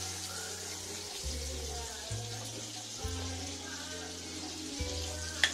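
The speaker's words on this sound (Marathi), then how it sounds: "आता याच्यात मी घालते आहे बटर." Butter melts and sizzles in a pan while making a white sauce for pasta, a steady soft frying hiss running throughout, with low humming tones and a small clatter at the end.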